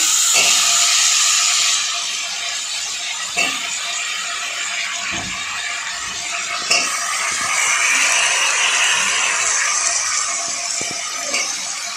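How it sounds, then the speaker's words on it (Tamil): Vegetables sautéing in a pan for Tamil masala kulambu, a continuous hissing sizzle broken by occasional sharp clinks and scrapes of a spoon against the pan, fairly loud and close. "நம்ம எடுத்து வச்சுருக்க காயையும் வந்துட்டு சேர்த்து ஒரு 2 நிமிஷம் வந்து நல்லா நம்ம அந்த காய் வேகிற அளவுக்கு நல்லா வதக்கி விட்டுக்குவோம்"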